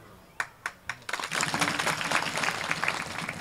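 An audience at a devotional sermon breaks into applause: a few sharp separate claps first, then a full, sustained round of dense clapping from many people.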